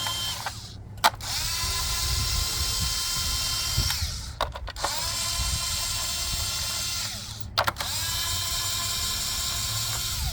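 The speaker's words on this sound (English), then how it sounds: "I'm going to use my snap-on 1/4 inch gun" A Snap-on 1/4 inch impact gun whirs in three short, sharp bursts as it backs out spark plug cover bolts on a 2015 Honda Accord Sport 2.4 L, with quiet pauses between runs.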